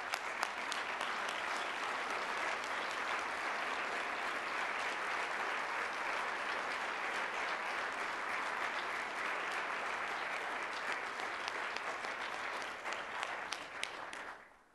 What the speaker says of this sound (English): If you could give them a good round of applause.